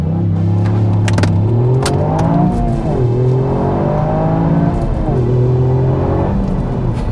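Toyota GR Yaris pulling away hard from a standstill in track mode, its engine note climbing through rising revs with short dips at each gear change, loud and close throughout with no talking.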